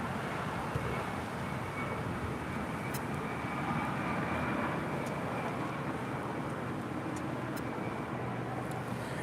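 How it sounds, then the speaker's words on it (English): A Delta Connection Embraer E175LR jet, in from Salt Lake City, lands at LAX with a steady, broad engine roar that holds at an even loudness throughout, with no voices. "That was Delta Connection 4547 coming in from Salt Lake City on an Embraer E175LR."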